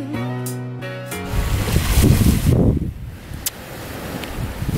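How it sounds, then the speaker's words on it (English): Wind and waves on the Indian Ocean at South Beach, Australia, in mild winter weather: a moderate washing roar that swells and fades after a brief tonal sound at the start. "This is the Indian Ocean, by the way."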